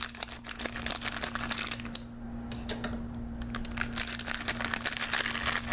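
Funko mystery mini blind-box packaging being cut open and unwrapped, a close rustling and crinkling of plastic and cardboard with small crisp snips and crackles, steady throughout with a steady low hum underneath.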